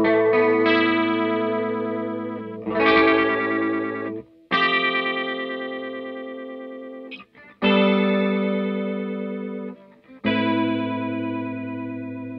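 An electric guitar runs through an analog chorus pedal set to maximum speed, ringing out sustained chords with a fast, wobbling shimmer. Four strums each ring and decay, with no talking.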